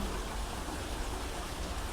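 Steady rain falls on a Thai home garden, a dense, even hiss that fills the whole moment without break, no voices or other sounds standing out above it.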